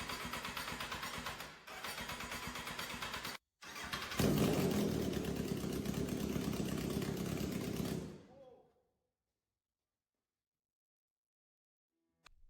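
A motorcycle engine is started after a repair to its ECU chip. It turns over in close, loud bursts with a brief cut, then catches and runs roughly for a few seconds before dying abruptly into silence.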